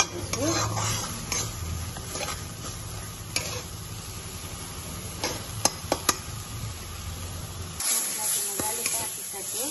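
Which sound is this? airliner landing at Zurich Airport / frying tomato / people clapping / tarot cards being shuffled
frying tomato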